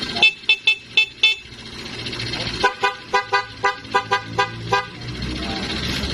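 A motorcycle horn toots in rapid repeated bursts, first a short series, then a longer run of evenly spaced honks, over a low engine rumble.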